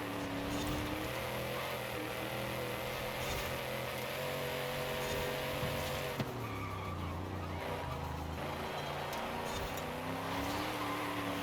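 A car corners hard in Forza Horizon 5 with tire squeal. Sustained engine roar shifts pitch as the tires howl through the turn, loud and continuous. A brief dip marks a gear change partway through.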